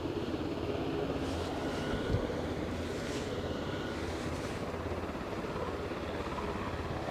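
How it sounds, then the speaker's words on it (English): A helicopter approaching Aberdeen airport gives a steady, broadband rotor and engine roar that holds at an even level throughout, with a soft wind-like rush over it. "I can see we've got another chopper on approach"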